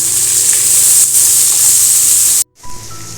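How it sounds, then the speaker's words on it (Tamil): Curry leaves sautéing in a hot pan, a loud, close, continuous sizzle and hiss that cuts off abruptly near the end, then resumes faintly, with no voices. "கருவேப்பிலை போட்டுக்கிறேன். இது நல்லா வதக்கிக்குவோம்."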